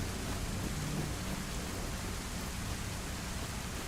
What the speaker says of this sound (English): The good thing is it's raining, so the zombies won't really pick up our sound that much